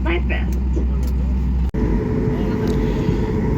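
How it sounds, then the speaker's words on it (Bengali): Propeller engines of an airliner spinning up on a runway at night, a steady loud broadband roar with low-end rumble that runs almost continuously, broken by one brief dropout, with voices talking faintly over it. "পাংখার আওয়াজ শোনা যাচ্ছে ইঞ্জিন মানে প্রোপাইলারগুলো অন করছে"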